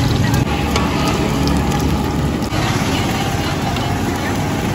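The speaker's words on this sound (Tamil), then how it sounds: "அந்த சிக்கன் வடையை அப்படியே எண்ணெயில் பொடி பொடியை தூவி விட்டு அதை பக்காவாக அப்படியே சுட சுட ரெடி பண்ணிட்டு இருக்காருங்க" Chicken vada sizzling as it deep-fries in oil at a street-side pushcart stall, a loud steady hiss and crackle with traffic and crowd noise around it.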